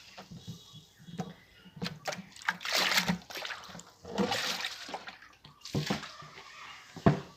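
A plastic tub is scrubbed and rinsed with water on a rooftop, with splashing and trickling in uneven bursts. The sound is close and moderately loud and keeps stopping and starting.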